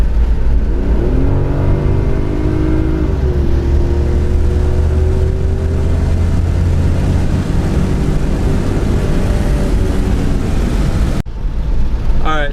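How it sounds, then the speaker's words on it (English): A Lexus IS300 engine at wide open throttle, loud and continuous, its pitch climbing through the revs toward the speed limiter and shifting between gears before cutting off abruptly near the end. "about to go wide open throttle again"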